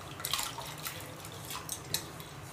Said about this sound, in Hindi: इसमें मैं 1-3 गिलास के ऊपर पानी डाल दी हूँ और दाल को डाल देती हूँ।